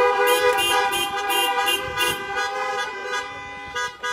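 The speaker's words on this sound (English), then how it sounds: "I get some honking amens." Car horns honk from parked vehicles at a drive-in church service, a rapid mix of overlapping toots and longer blasts, loud and close, tapering off toward the end.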